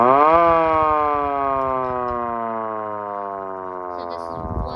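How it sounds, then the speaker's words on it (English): A 3D-printed 8-port air raid siren winds up quickly and then holds a loud, close, steady wail that slowly sinks in pitch as it spins down, heard alone. "It's an 8-port air raid siren."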